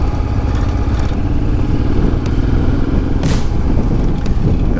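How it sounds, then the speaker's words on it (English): A Honda Africa Twin XRV750 motorcycle engine idles high, a loud, close, steady rumble with mechanical clatter and a brief rushing swell partway through, with no speech. "I think you can hear it's idling high, even when I'm off the power."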